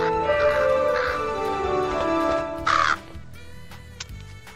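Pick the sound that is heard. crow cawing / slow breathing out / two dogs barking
crow cawing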